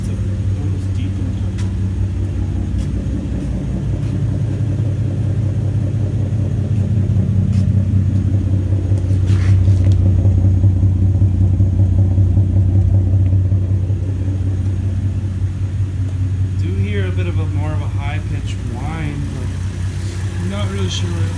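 A Pontiac G8 V6 fitted with a new OTR cold air intake idles and revs with a deep, steady rumble that swells in the middle, while someone talks over it.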